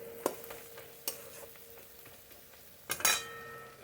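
Spices frying in oil in a pan with Kashmiri chilli, a soft steady sizzle punctuated by a few sharp metallic clinks of a spoon stirring against the pan.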